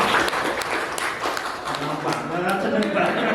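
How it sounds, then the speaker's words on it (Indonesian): Applause from an audience at an elementary school gathering, a continuous, loud patter of many hands clapping, with voices talking and calling out over the clapping. "Tepuk tangan dulu buat UAD."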